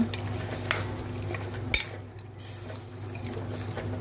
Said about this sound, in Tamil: தண்ணி விட்டு நல்லா கலந்து விட்டுடுங்க